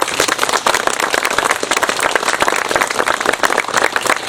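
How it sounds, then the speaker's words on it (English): A round of applause from a crowd at a Memorial Day gathering at Garden of Memories, dense, loud, steady clapping that continues without a pause. "Let's give these guys a round of applause."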